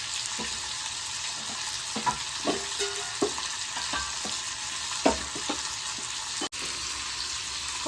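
Four garlic cloves fry in hot oil for brinjal kuzhambu, crackling steadily with scattered pops and the clink of stirring, with no voices.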